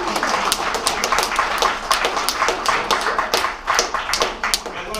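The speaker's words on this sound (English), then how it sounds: "Give her a big round of applause." Scattered applause from a small audience at a magic and games show, uneven individual claps that sound close and somewhat sparse, rising and dipping in irregular bursts throughout.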